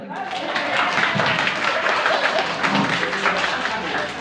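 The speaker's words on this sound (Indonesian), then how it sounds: "Tepuk tangan dulu" Kindergarten children clap together in a busy room, a continuous patter of small hands under a murmur of young voices.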